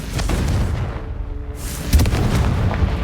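Confringo fire spell explosions in Hogwarts Legacy, heavy booming blasts with deep rumbling low end, a couple of loud impacts echoing in a game battle with no talk.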